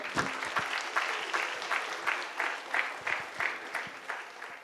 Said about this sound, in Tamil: ஒரு மிகப்பெரிய கைத்தட்டல் கொடுத்துடலாம்